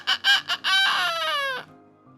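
A person imitating a rooster's crow: three short clucking bursts, then a loud, drawn-out cock-a-doodle-doo that falls in pitch and cuts off, close and clear.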